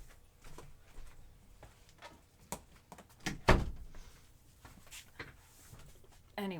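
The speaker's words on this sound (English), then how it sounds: "Anyway, I shut the door," A door is shut once with a single loud, close thud about midway, set against quiet room noise and a few scattered softer knocks.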